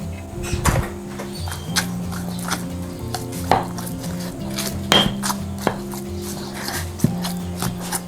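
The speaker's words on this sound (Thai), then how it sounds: "แล้วเดี๋ยวเราจะตำส่วนผสมทุกอย่างให้เข้ากันค่ะ" Fish meat and other ingredients are pounded together in a mortar, sharp irregular thuds landing every second or so over a steady low background hum, close and moderately loud.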